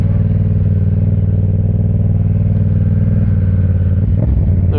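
A steady, loud motor drone with a low, even, pulsing rumble runs throughout, rising briefly near the end, on a street used by stunt motorcycle riders.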